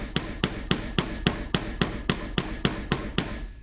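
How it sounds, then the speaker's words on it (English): A ball peen hammer flattens a rivet on a leather duffel bag with about a dozen sharp, evenly spaced metallic strikes in a quick steady rhythm. The strikes are close and clear, with no voices. "with my ball peen and just flatten her out"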